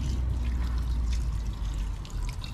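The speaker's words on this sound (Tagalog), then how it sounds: "lagyan natin ng tubig" Water pours steadily into a cooking pot for milkfish sinigang outdoors under a tree on a windy day, with a continuous splashing gush over a low outdoor rumble.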